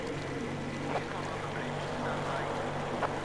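A boat engine drones steadily at close range in the Metro Exodus video game, a low continuous rumble with faint wind.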